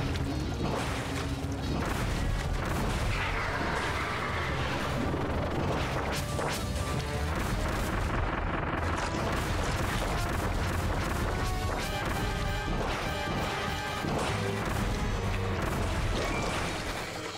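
Homing bombs exploding in Kirby and the Forgotten Land, in a dense, loud run of repeated crashing impacts and bursts layered over busy game music and effects, with no pauses.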